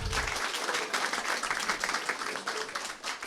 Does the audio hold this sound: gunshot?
no